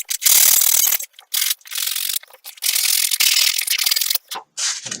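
Sandpaper rubbing across a foam wing core, in a run of short and long scraping strokes with brief pauses between them, close and fairly loud, with no one talking.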